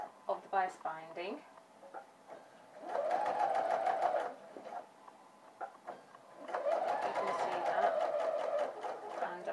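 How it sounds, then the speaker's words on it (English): A sewing machine stitches bias binding onto a garment in two loud, steady bursts of rapid mechanical whirring. Softer clicks and handling noises fall between the runs, and a voice talks at the start. "I'm actually sewing roughly about 3 millimeters away from the fold of the bias binding"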